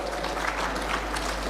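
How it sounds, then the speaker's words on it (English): An audience claps steadily at a felicitation ceremony for a health minister in Telangana, a dense, even patter of many hands filling the hall without a break. "a big clap for you and your Praja Paripalana, sir"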